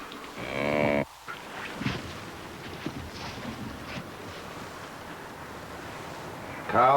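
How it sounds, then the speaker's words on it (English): A cow gives a short low moo at the start, followed by gusty wind noise and faint outdoor rumble, with another moo beginning at the end. "Cows won't wait for a nap, Sam."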